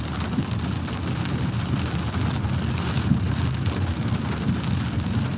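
Steady heavy rain pours down while driving, drumming on a car with a constant dense wash of noise and no voices.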